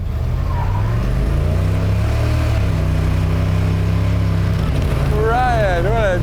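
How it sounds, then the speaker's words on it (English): A Gasser drag car on street tires holds a loud, steady engine drone for a short burnout, with the pitch shifting as the revs change and a voice talking over it near the end. "just do a quick little burnout just to clean the dirt off the tires"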